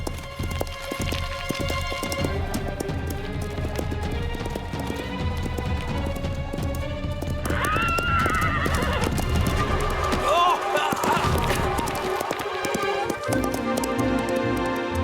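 A pony gallops in an animated adventure, with quick clip-clopping hooves and a whinny under music, a voice speaking at times.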